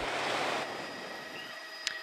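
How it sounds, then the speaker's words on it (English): Ocean surf washes steadily onto Broadkill Beach during a dredging and sand replenishment project, a continuous broad rushing roar that eases slightly after the first moment, with a brief sharp tick near the end. "waves keep crashing as more sand is on the way"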